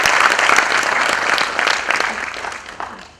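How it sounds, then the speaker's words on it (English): An audience at a corporate HR conclave anniversary event claps in a sustained round of applause, loud and dense at first, then gradually thinning and fading out. "A round of applause for him."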